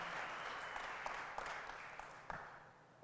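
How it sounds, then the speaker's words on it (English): Audience applause at an Empathytech event's Impact Lab gathering, a broad wash of clapping that stays fairly even and soft before tapering slightly near the end. "Can we get a round of applause"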